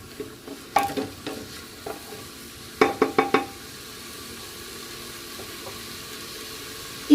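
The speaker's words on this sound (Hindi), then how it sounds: "इन सबको अब मैं फ्राई करूंगी थोड़ा सा" Vegetables for veg biryani fry in a pressure cooker, a low sizzle broken by scattered sharp clanks of a spoon against the pot, with a quick cluster of knocks midway.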